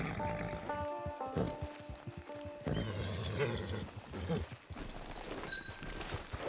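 A horse in Red Dead Redemption 2 gives a rising whinny amid hoof clops and outdoor game ambience, with a brief voice and other tonal game sounds around it.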